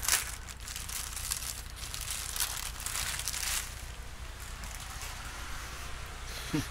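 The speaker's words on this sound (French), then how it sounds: "Désolé pour le bruit du papier." Steady crinkling and rustling of paper, close and fairly loud, swelling in the first few seconds then continuing more softly.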